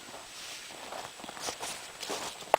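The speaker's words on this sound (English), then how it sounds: "crinkling of the mylar behind me" Soft crinkling and rustling of a thin mylar sheet stirred by wind in a winter survival shelter, steady and close, with a sharper crackle near the end.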